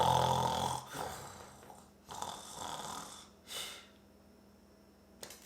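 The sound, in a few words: storyteller imitating the wolf snoring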